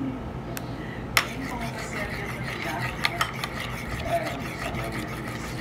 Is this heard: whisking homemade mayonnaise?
yes